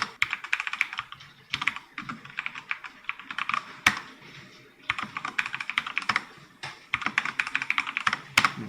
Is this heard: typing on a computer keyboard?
yes